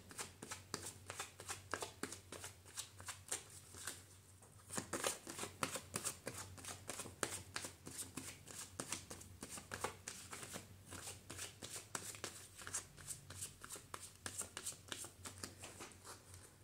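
Tarot cards shuffled by hand in a steady run of quick riffling flicks, close and fairly quiet, with a brief pause around the middle before the rapid rhythm resumes with no speech.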